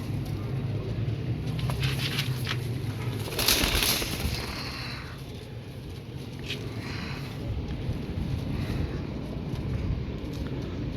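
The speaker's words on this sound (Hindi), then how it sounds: "ये हाजी साहब के घर के कबूतर हैं दोस्तों" Pigeons at Haji Yousuf's loft coo softly and flutter their wings now and then, fairly faint against a steady outdoor ambience with a passing car.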